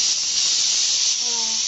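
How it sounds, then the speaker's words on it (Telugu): Dal boils in a pot on the stove, giving a steady, even hiss of steam throughout, with faint tonal whines rising near the end. "ఇట్లా ఉడుకుతుంది."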